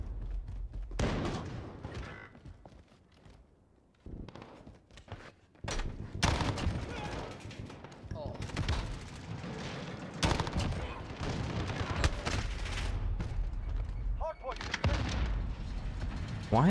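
Video game gunfire in a multiplayer shooter, bursts of rapid shots and heavy blasts in quick clusters separated by brief quiet gaps, loud and close.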